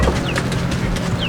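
Backyard chickens cluck softly in short, scattered calls over steady outdoor background noise, with a few higher chirps mixed in.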